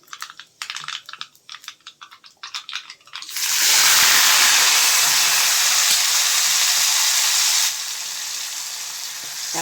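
Mustard seeds and dried red chillies hit hot tempering oil with a loud, steady sizzle that bursts in after a few seconds of scattered crackling pops, then continues close and dense before easing slightly near the end.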